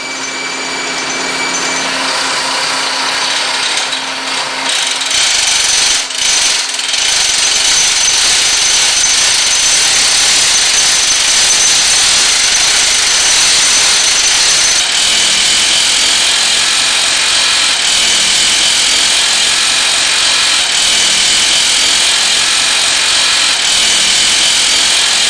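A MacLean 900 Series scissor bolter drills a hole and installs rock bolts underground, a loud, continuous high-pitched drilling roar with a brief dip early on, then unbroken grinding power for the rest.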